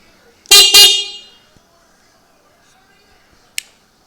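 The horn on a street-legal 1998 Yamaha YZ400F motorcycle gives two quick, close beeps in a row, followed by quiet and a faint click.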